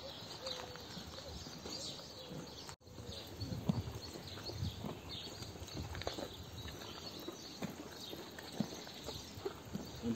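A horse on a trail ride walking with a steady clip-clop of hooves, close by, with birds and light background activity around it.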